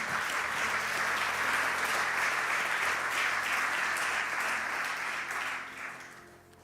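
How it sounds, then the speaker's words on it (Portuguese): A church congregation applauds with a full, continuous roar of clapping that holds steady for several seconds, then fades out toward the end. "Aplaudimos a Jesus, né?"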